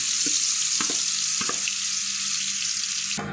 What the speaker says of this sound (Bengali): গরম হয়ে গেছে আমি এই মশলাটি তেলের মধ্যে দিয়ে দিলাম